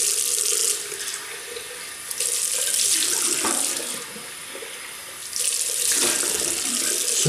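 A tap runs into a sink while someone rinses off after a shave, a loud steady hiss of flowing water that dips twice as the stream is interrupted by hands, then surges back, close by.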